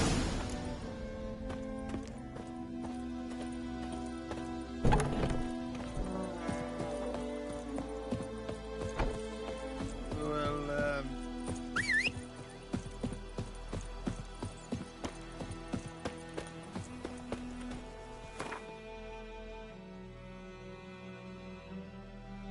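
Roach, the horse in The Witcher 3, gallops with a steady run of hoofbeats beneath an orchestral game score. The hooves turn into distinct, evenly spaced clops near the end.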